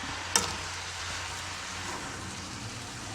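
Sugar stirred into grated carrots for gajar halwa, a steady soft sizzle and hiss of cooking with a single sharp clink of a spoon against the pan near the start.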